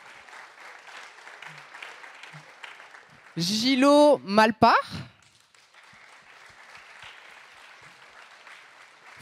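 An audience at an award ceremony for nominees bursts into a short, loud round of applause that swells and fades over a couple of seconds, framed by a presenter speaking before and after in a hall.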